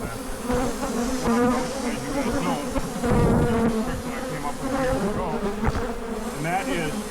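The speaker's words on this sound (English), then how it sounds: "Boy, they're mean bees." Aggressive killer bees swarming at the Sunsites library during an invasion, some of them piling onto sprayed foam, make a loud, thick buzz that rises and wavers in pitch as many insects fly close by, with no talk.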